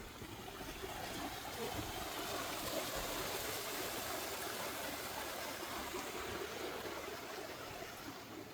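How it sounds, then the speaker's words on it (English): A mountain stream runs down a hillside in a bamboo garden, giving a steady, continuous rushing wash of water, fairly close and even in level throughout, with no voices over it. "You can hear the water coming down the mountainside right here."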